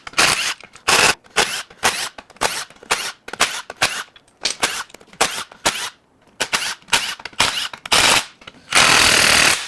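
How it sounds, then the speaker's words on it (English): Bolts being spun out of a Dodge Dart dual dry clutch (FPT C635 DDCT) transmission case with a loud impact gun, in rapid repeated bursts of rattling hammering separated by short pauses, close and with no talking. "Get these case bolts out."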